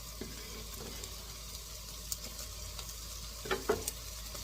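Vegetable eggroll filling sizzles quietly in a pan, a soft steady frying hiss broken by a few light stirring clinks and scrapes.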